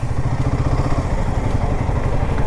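A Royal Enfield Himalayan 450 motorcycle rolls along at very low speed on a daily office commute, its engine giving a steady, loud, close low thrum with no pauses and no talking.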